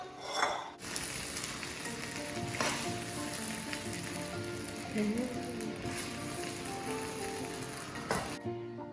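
Thai-style shrimp fried rice sizzling steadily in a pan over high heat, a continuous close crackling fry with occasional louder pops and stirring clatter.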